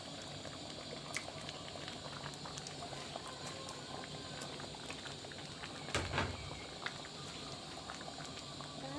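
A pot of bamboo-shoot curry with bitter mushrooms and rice-paddy herb boils on the stove, giving soft, continuous bubbling and simmering close by, with one brief knock partway through.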